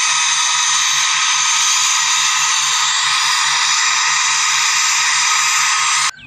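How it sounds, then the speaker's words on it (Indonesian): A toy military helicopter's small motor makes a constant high whine with a faint rapid rhythmic ticking underneath, steady throughout, then stopping suddenly. "Lalu ada helikopter militer."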